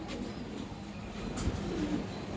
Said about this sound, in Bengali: এখানে আর এক পেয়ার কবুতর আছে